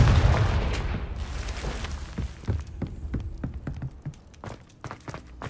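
A Confringo spell blast in Hogwarts Legacy booms loudly at the start, then fades into a run of sharp, evenly spaced footstep-like thuds and clicks.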